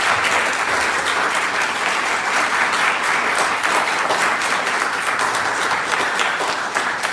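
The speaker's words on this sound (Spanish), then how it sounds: "un fuerte aplauso para ellos." A large audience at a Chilean political panel discussion applauds the guests, with loud, dense, steady clapping sustained throughout.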